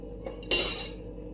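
A short spoonful of salt tipped into a pot of water for basmati rice, a single bright clink and brief hiss standing alone in quiet.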